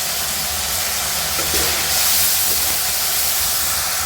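A spice paste of ginger, salt and masala fries in a hot pan, giving a loud, close, continuous steamy hiss and sizzle with slight swells and no other sounds.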